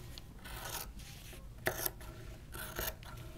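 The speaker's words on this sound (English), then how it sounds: "I'm cutting it with the fabric to my left, and it's not as neat of a cut" Scissors cutting through fabric along a hem, heard as a few quiet, rasping snips in short bursts with brief pauses between them.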